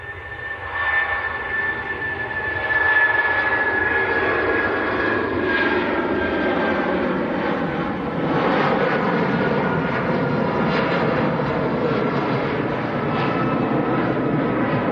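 A Jet2 Boeing 757, registration G-LSAJ, takes off at Manchester Airport on its final passenger flight, its engines holding a loud, steady roar throughout with a thin whine over the top.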